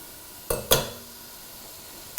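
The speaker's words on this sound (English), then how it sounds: "And then I'm putting in the onions, the carrots." Onions and carrots tipped into a hot soup pot for carrot ginger soup, landing with two sharp clattering hits followed by a short sizzle, then a third brief clink near the end; close and otherwise quiet, no talk.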